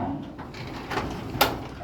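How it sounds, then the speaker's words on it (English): An unbalanced residential garage door swings upward on its own once lifted partway, giving a soft rolling rush followed by a sharp clack near the end, heard over steady room noise. "the door flies up"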